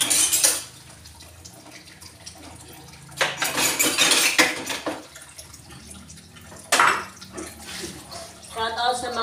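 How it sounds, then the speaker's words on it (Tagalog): Dishes are washed by hand under a running tap in the morning, with loud bursts of gushing water alternating with quieter clinks of plates and utensils, close by, and a voice talking in between. "Ito nga pala ang aking hugas ang madami-dami ngayong umaga."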